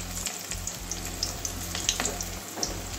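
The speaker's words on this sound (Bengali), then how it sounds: "আস্তে আস্তে করে ভাজতে হবে, কারণ বেসনটা সিদ্ধ হতে হবে। তিনটে তিনটে করে ভাজবো।" Stuffed spine gourd slices coated in gram flour batter fry in a pan over low heat, giving a steady, close sizzle and bubbling with faint crackles throughout, with no talking.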